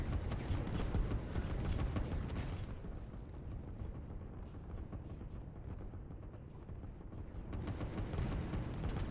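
Rocket and artillery fire in the Line War strategy game, a continuous rumble of booms and blasts that thins out briefly in the middle, then swells again, steady and fairly loud with no talk.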